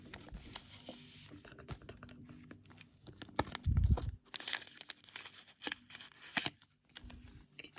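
Several ripping and crinkling sounds of adhesive tape being torn from a paper gift package, close up, with soft rustling in between and no speech.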